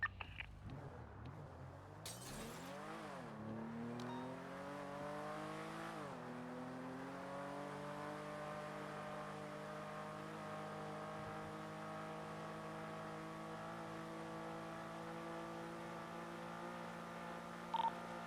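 A car engine accelerates in the GTA V NoPixel video game, pitch sweeping upward through several gear changes before settling into a sustained high drone, with no talk.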